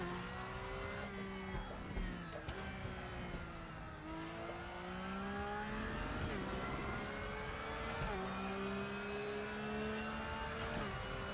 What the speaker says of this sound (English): The unmistakable noise of the Porsche engine